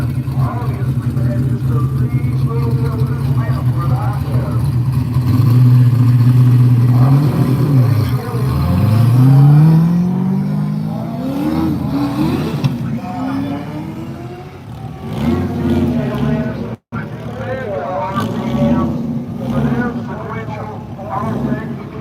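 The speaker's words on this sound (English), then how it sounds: "Jamie and his Corvette, man, 800 horsepower, sequential transmission." Roaring V8 engine note of an 800-horsepower Corvette race car with a sequential transmission, accelerating hard with rising pitch sweeps through gear changes and fading away, under an announcer talking at a King of the Mountain shootout.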